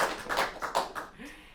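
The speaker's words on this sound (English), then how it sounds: "round of applause from our in-person people for Lucinda." Small in-person audience at a youth symphony event clapping briefly, a few distinct handclaps close by, with a voice heard near the end.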